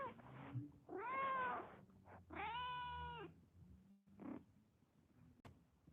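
A cat meows a few times up close, drawn-out calls with short pauses between them, followed by a softer chirp and a faint click.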